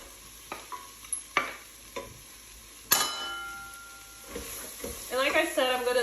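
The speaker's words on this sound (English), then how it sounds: "Now I'm gonna add my carrots. I just like to add carrots to my chili." Carrots are stirred into chili in a hot pot, with a few clinks and scrapes of a spoon, one sharp knock, and then a crackling sizzle that swells near the end. No one speaks.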